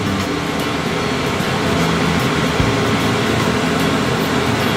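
A Moxa Smoke Terminator suction unit runs close by with a continuous, even whooshing hum of a fan, broad and steady with no pauses.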